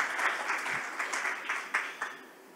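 Applause from a small audience at an Internet Measurements Working Group meeting, a brief burst of clapping that thins out and fades by the end.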